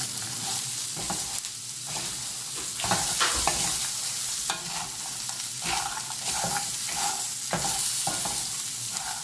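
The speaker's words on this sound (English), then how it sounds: "I'm adding some turmeric now and just give it a nice mix" Brown chickpeas being stirred with turmeric in a pan, a soft steady sizzle broken by repeated scraping stirs of a utensil at an uneven rhythm, close up with no talking.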